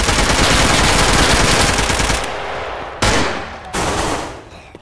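Gunfire in the video game DayZ: a dense, loud automatic burst rattles for about two seconds, then two sharp separate shots ring out with decaying echoes.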